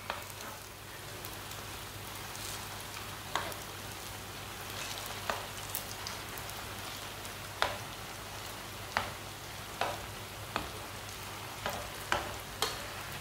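Potato kebabs fry in a pan with a little oil, giving a faint, steady sizzle dotted with crisp pops and spits that come irregularly every second or two.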